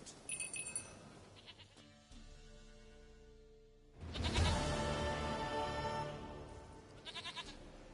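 A goat bleats in The Witcher 3 video game amid rural game ambience, with a loud wavering bleat rising in the middle of the stretch over a steady background of outdoor sounds and music.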